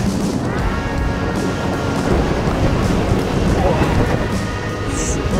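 Strong wind buffets the microphone in a continuous loud, rumbling roar during a cold, wet mountain bike ride, with no clear talking.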